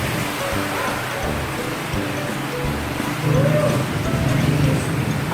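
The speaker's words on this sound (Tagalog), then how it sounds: "Umuulan na siya." Steady rain falls on a flooded street in the Philippines, a broad hiss mixed with low traffic rumble, continuous and fairly loud throughout.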